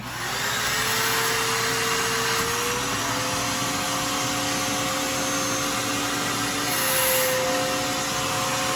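Steady, loud vacuum suction roars without a break as it pulls an object out of a toilet holding tank, with a faint whine rising near the end.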